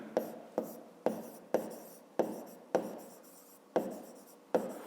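Chalk or marker strokes on a board during a fifth-grade maths lesson, about eight distinct scratchy taps in an uneven rhythm, close and clear with no talk.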